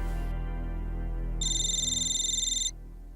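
An electronic telephone ringtone sounds once indoors: a short, bright, warbling ring rising above a steady low background hum, then stopping.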